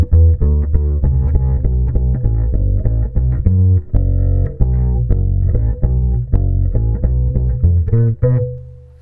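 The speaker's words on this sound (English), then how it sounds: "I prefer with compression, at least for this electric upright bass." A Cecilio electric upright bass played through a compressor with the limiter switched on: a steady run of plucked, deep bass notes at even, controlled loudness, close and alone, ending on a held note that fades out.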